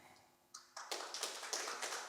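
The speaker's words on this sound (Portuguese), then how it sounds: "Francisco Paupério bateu palmas" A small Portuguese audience at a talk on democracy and equality claps hands to vote, starting with a couple of single claps and quickly swelling into a brief burst of scattered applause, fairly close and crisp.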